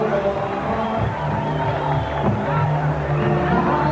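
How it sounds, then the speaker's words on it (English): A boxing arena crowd gives a fighter from Fort Worth, Texas a warm reception on his entrance, a steady dense roar of cheering and babble throughout with a commentator's voice running over it. "He gets a warm reception from this crowd."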